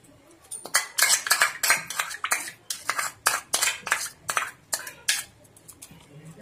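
A spoon scrapes and knocks rhythmically against a pan while ground cashew and poppy seed paste is mixed in, a quick run of close, sharp metallic strokes without talk.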